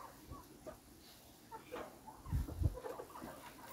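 Chickens on a farm clucking in short, uneven bursts, a couple of louder close clucks near the end over quiet outdoor background, with light human sounds nearby.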